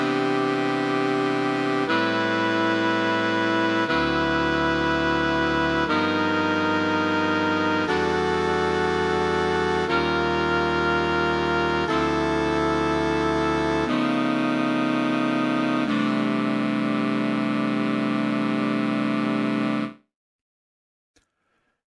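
A simple chord progression in open spread jazz voicing, heard as about eight sustained chords that change every two seconds or so, played steadily and loud, then ending abruptly with silence.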